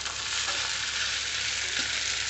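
Maggi noodles tossed into onions, cumin and chilli frying in oil, a loud continuous hissing sizzle with faint stirring movement underneath and no one talking.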